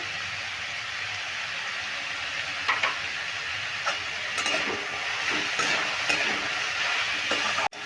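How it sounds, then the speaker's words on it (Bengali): Pumpkin pieces fry in a pan with salt and turmeric for a sour pumpkin dish, giving a steady sizzling hiss broken by irregular scraping clicks of stirring and a sharp knock near the end. "নুন আর হলুদ দিয়ে একটু নেড়ে ভেজে নিলাম"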